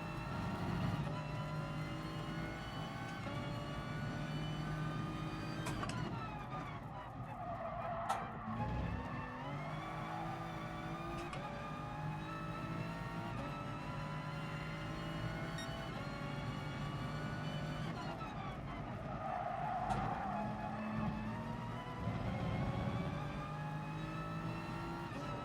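A race car in Gran Turismo Sport on a mountain circuit holds a steady engine drone while tyres skid and squeal through long stretches, with shifts in engine pitch as the car slides, no voices.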